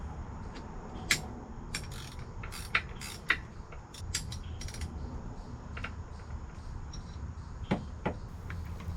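A Griptec pulley and hub being tightened on a ProCharger supercharger, giving scattered sharp metallic clicks and light creaks over a low, steady background hum.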